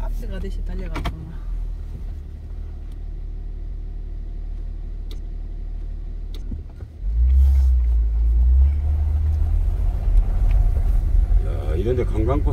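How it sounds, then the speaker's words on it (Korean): A tour bus climbing a narrow village hill road toward a Norwegian viewpoint, its low engine rumble swelling louder as it draws near, with voices talking over it. "이런데 관광버스가 올라오네요"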